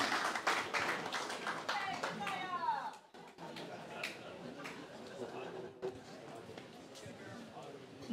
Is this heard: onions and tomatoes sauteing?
no